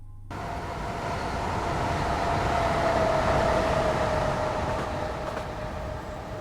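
A train pulls away from New Crossgate station in Train Simulator 2016, a steady loud rumble of wheels and traction motor with a rising whine building then easing slightly, no voices.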